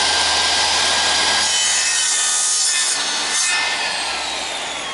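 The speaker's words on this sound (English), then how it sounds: "If I want to cut an angle on the end of this piece of timber," A handsaw cuts an angle across the end of a piece of timber, a continuous loud rasping stroke sound close up that eases slightly toward the end.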